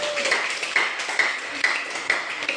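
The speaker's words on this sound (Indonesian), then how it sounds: "tepuk tangan untuk kelompok 2 dulu" Classroom applause for a student group, a loose, rhythmic clapping from several pupils in a room, with sharp claps recurring about every half second and a voice speaking faintly underneath.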